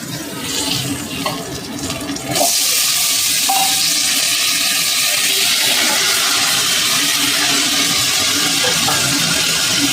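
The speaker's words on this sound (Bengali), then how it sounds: "তো এবার আমি সবজিগুলোকেও কিন্তু ভেজে নেব।" Cut vegetables hitting a little oil in a wok, a loud, dense, steady sizzle that erupts after a couple of quieter seconds and holds close and unbroken, with no voices.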